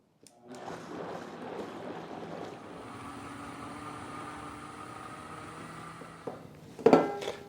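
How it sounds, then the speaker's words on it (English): Countertop blender whirring steadily while pureeing a homemade party appetizer until smooth, a loud continuous motor drone that runs for several seconds and then cuts off with a brief clatter. "I'm just going to blend this until it's perfectly smooth"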